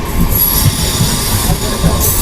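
An LHB-coach Palnadu SF Express runs along the rails with a steady rumbling roar and a high metallic squeal, heard from on board and continuous throughout.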